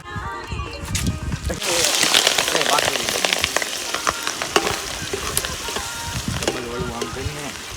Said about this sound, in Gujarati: આ વઘાર બઘાર એ મારવાનો છે એક બટેટાનો